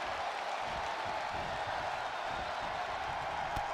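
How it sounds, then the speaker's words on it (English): Dense, steady roar of a large arena crowd cheering and clapping during a WWE 2K22 wrestling match, loud and continuous throughout with no talk. "The sound of this crowd is deafening"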